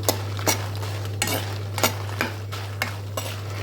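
Fried dried red chilies are scooped out of a pan onto a plate, producing a series of sharp metallic spoon scrapes and clinks over a low steady hum, with a faint sizzle underneath.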